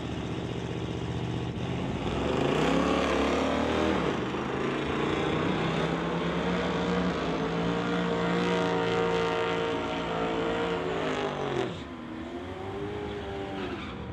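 A 1958 Oldsmobile and a Chevelle drag race on a strip, engines roaring loudly and steadily and rising in pitch through the gears, then fading as the cars pull away.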